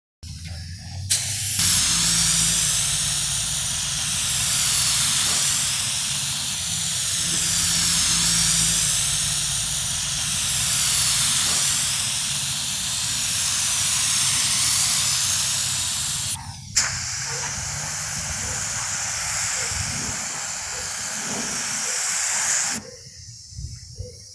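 Loud continuous hiss of a spray gun painting a 1995 Ford F250 truck, running long with a slowly wavering tone, stopping briefly, then resuming until it cuts off.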